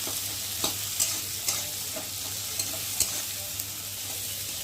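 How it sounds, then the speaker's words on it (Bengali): Sliced onions with green chillies fried in oil and stirred in a pan: a steady close sizzle with occasional spatula scrapes and taps spaced about a second apart. "এই পেঁয়াজটা একটু ভালো করে নেড়ে দেব"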